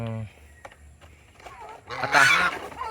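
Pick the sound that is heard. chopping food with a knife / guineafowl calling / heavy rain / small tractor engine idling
guineafowl calling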